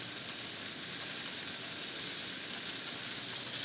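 A bone-in pork roast sears in a hot pan, standing upright on its end, giving off a steady, close, even sizzle that holds without a break and with nobody talking.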